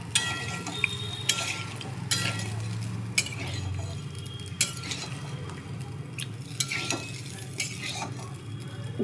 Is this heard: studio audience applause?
no